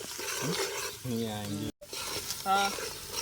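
Onions and chicken curry frying in a pan while being stirred, a steady close sizzle with scraping strokes, partly under voices talking nearby.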